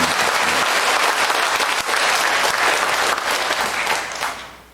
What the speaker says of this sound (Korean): 그분들 위해서 우리 그냥 불러 세우지는 말고 박수를 한번 칩시다.